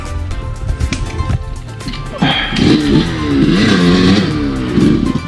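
A CR250 dirt bike on a mountain trail revs hard and close, its engine rising in surging, wavering pitch after a quieter first two seconds of idling and rough running.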